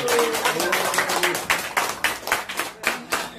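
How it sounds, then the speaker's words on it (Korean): Audience clapping at a health demonstration session, a moderately close crowd breaking into uneven, rhythmic claps with distinct individual hand strikes, growing more pulsed toward the end. "자, 박수 한번 크게 한번 주세요."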